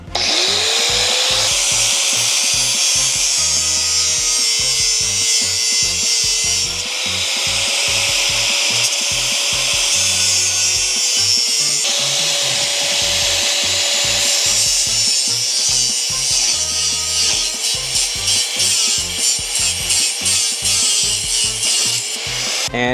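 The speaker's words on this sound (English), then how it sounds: "angle grinder and make 2 cuts right here, as deep as we can go back here" An angle grinder bites into the steel subframe of a BMW X5 M50, its motor whining steadily as the disc rasps and grinds with a gritty, pulsing scrape, loud and close for the whole stretch.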